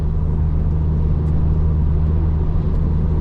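A car climbs a hill in sixth gear, its engine producing a steady, loud, low droning rumble with no pauses.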